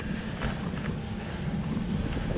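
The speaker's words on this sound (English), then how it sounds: "It is starting to, it's pretty windy and rainy" Wind gusts and rain at an outdoor fishing pond, a steady rushing roar buffeting the microphone for a couple of seconds with no voices.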